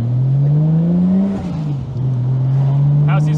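Toyota JZX100 Chaser with turbo and quiet internal wastegate pulls under steady acceleration, a loud, close, droning engine note holding steady throughout with a slight dip midway and no talk.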